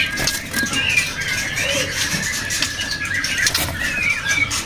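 Caged murai (magpie robin) songbirds in a crowded cage flap their wings and give squawking calls and whistled chirps, close and busy, with rustling patter throughout.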